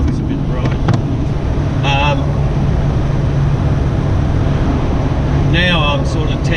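A car engine hums steadily while towing a camper trailer, a constant low drone with wind noise inside the cabin, and a person talks over it throughout.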